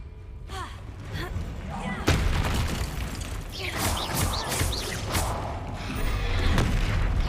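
Bombarda and other blasting spells go off in Hogwarts Legacy as booming bursts, with a heavy thud near two seconds and more crashes and rumbles after it, over dense game noise and a voice.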